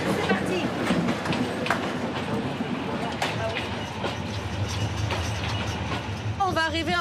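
A steam tourist train runs on rails along the Baie de Somme, a steady loud rumble with rhythmic clatter from the carriages and a brief squeal near the end, heard from on board.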